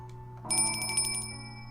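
A bright chiming bell tone rings out once in the Cloe's Requiem video game, a clear ringing chime lasting under a second over a soft musical hum, then fading.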